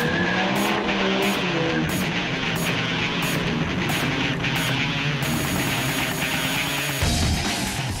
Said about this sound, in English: It's a 54 Plymouth Savoy with a 200 mile per hour V10 Viper drivetrain.